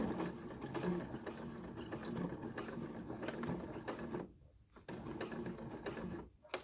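An overlocker serger runs through T-shirt fabric with a rapid, continuous mechanical chatter that stops briefly for a quiet gap, then resumes, close and moderately loud.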